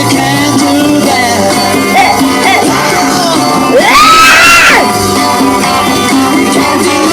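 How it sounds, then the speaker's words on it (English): An audience screams and shrieks through a live-era recording, the high crowd cries rising loudest midway and blending with the band's music throughout. "I like the screaming works in there"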